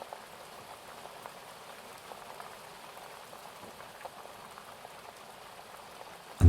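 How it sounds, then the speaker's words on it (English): A stream of running water flowing softly through a meadow, heard as a steady, faint trickling hiss with fine bubbling detail that continues evenly before a sudden louder sound cuts in at the very end. "they begin to hear the distant sound of running water,"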